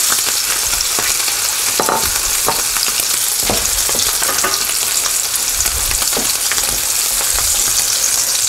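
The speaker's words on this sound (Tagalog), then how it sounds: "iprito lang natin ito maybe for a minute or two on a medium heat hanggang sa maging golden brown lang" Eggplant omelette (tortang talong) frying in oil in a pan over medium heat, a loud, steady sizzle with scattered crackles and occasional utensil taps, no voices.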